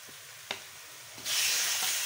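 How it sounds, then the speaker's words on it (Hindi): Chopped onions and about 750 grams of chicken hit hot ghee in a pan for a chicken and pea curry. After a quiet start with a small clatter, a loud, steady frying sizzle bursts in and keeps going. "प्याजों को और चिकन को अच्छी तरह फ्राई कर लेते हैं"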